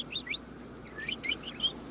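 A small bird chirps in quick, high twittering notes, several short bright calls scattered across a couple of seconds, fairly close over a soft background hum with no talking.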